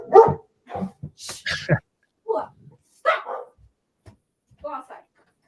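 A pet dog barks in a few sharp yips and woofs, close and loud, spaced over several seconds, while someone briefly speaks over it indoors.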